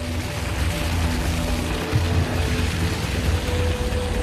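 Steady heavy rain falls in the Amazon rainforest during the rainy season, a dense, continuous hiss of drops on foliage and surfaces, loud and unbroken throughout with no voices.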